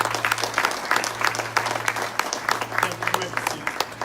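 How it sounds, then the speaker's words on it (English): An audience claps after a call for a round of applause at a religious gathering, a dense, steady patter of many hands that continues throughout over a low electrical hum. "Let's give everybody a round of applause"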